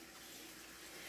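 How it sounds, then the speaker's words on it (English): A tap runs steadily, filling a kitchen sink with dishwater. The flow is a faint, even rush in the background with no speech. "you can hear the water in the background"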